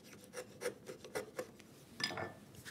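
Chisel paring wood while making a router plane: a series of short, close rasping strokes in an uneven rhythm, fairly quiet, ending with one longer scrape.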